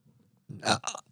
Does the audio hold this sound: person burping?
yes